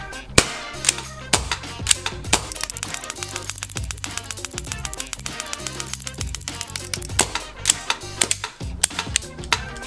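A gas blowback airsoft pistol fires a long run of rounds in quick, fairly even succession, each shot a sharp snap with the slide clacking, loud and close, alone without talk.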